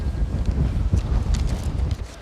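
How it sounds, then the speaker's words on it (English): Gusty wind buffets the microphone at Newport Market in Newport, with a low, rumbling roar that rises and falls throughout. "It's fucking windy by here."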